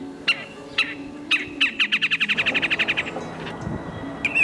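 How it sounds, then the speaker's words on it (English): Birdsong in Central Park, New York: a high bird repeats sharp chirps, then breaks into a fast, evenly spaced trill of about fifteen notes before a final chirp, close and clear over low city hum. "I can play different calls to bring in birds."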